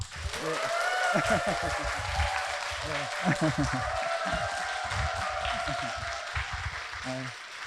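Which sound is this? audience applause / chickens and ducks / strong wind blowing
audience applause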